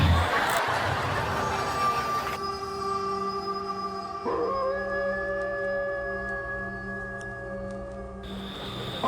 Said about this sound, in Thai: มันฟิล์มได้ยินเสียงหมาหอนเลย